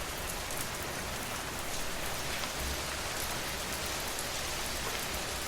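Gentle rain falls steadily on surfaces in a soft, even hiss with scattered drop patter. It stays constant and fairly quiet, with no voices or thunder.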